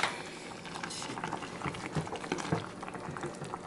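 Kimchi stew with beef broth powder stirred in bubbles in a pot, with close gurgling and liquid stirring sounds and a few soft knocks, moderately faint with no talking.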